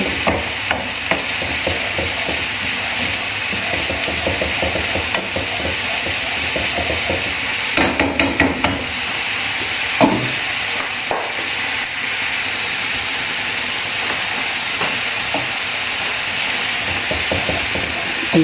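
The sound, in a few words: frying stroganoff ingredients in a pan until brown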